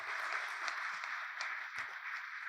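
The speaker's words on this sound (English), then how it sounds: "He deserves a round of applause too." Audience applause at a university event celebrating its Hispanic serving institution status, a steady wash of many hands clapping at moderate distance, fairly faint and even throughout with no voices over it.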